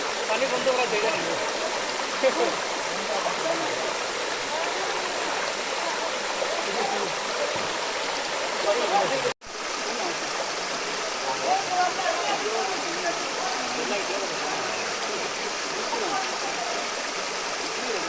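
Madhabkunda waterfall thunders in a steady, heavy rush of water, close and continuous apart from one short break, with faint voices murmuring beneath it.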